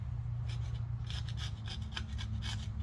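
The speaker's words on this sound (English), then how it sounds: "with a piece of Scotch-Brite, polish that up good so we get a good seal" Scotch-Brite pad rubbed over an engine's gasket sealing surface on a four-wheeler being rebuilt, a steady close scrubbing rasp in repeated strokes over a constant low hum.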